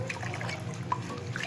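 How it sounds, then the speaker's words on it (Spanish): Water boiling in a cooking pot, readied for armadillo meat, gives a steady close hiss of rolling bubbles with small irregular pops and gurgles throughout. "yo ya tengo el agua hirviendo"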